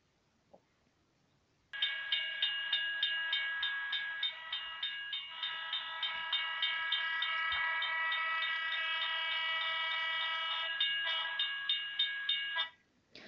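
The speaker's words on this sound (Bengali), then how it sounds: "ঠিক এই সময় ট্রেনটা প্ল্যাটফর্মে এসে ভিড়ল।" A train pulls in at a station platform as a staged drama effect: a loud, sustained whistle-like tone pulses in a steady rhythm for about eleven seconds, then cuts off.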